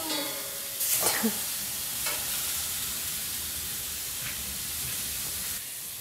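Tomatoes for salsa roast over an open fire with a steady, close hiss and crackle, broken by a few brief handling knocks near the start.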